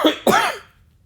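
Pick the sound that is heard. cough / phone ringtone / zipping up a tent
cough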